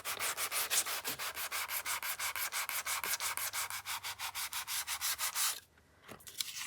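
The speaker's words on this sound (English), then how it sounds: "I have two different sandpapers. One's more coarse than the other one." Sandpaper on a sanding block rubbing steadily back and forth over a magazine journal cover, fast rhythmic strokes close to the mic, alone, stopping near the end.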